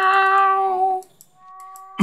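A black cat in the video game The Last Door meows in a long, tonal, drawn-out call that is loud and close, followed by a quieter second call and then a short noisy burst.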